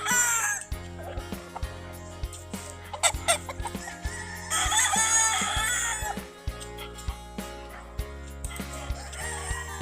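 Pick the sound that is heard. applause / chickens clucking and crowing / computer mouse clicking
chickens clucking and crowing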